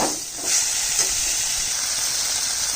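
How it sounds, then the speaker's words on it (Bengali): Banana stem curry sautéed in a pan with spices and Kashmiri chilli powder, producing a continuous bright sizzle and hiss with faint stirring scrapes, close and steady, no voices. "একটু কষাবো, কষিয়ে জল দিয়ে দিচ্ছি।"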